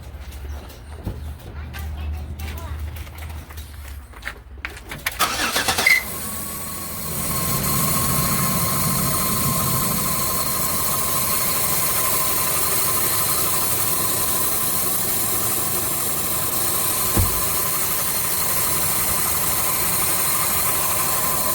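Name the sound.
Chevy Equinox car engine starting and idling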